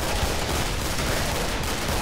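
Rapid bursts of M14 rifle fire in the Killing Floor co-op shooter, a dense, continuous barrage of shots over a loud, steady bed of game noise with no clear gaps.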